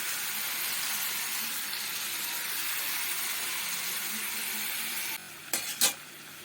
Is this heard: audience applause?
no